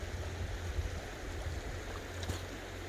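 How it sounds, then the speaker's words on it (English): Low, steady creek water running over big boulders at Willow Creek, a continuous broadband rush close by with no talk. "There's the creek."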